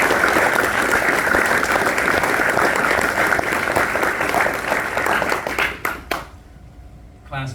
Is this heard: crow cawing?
no